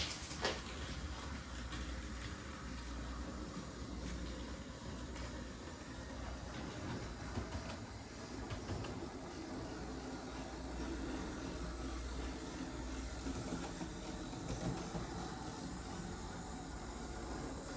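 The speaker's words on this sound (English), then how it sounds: "Just need to wait for the train to go by to make sure all the spacing is good." A steady rumbling hiss of a small model train running along track, continuous and even for the whole stretch, with no voices.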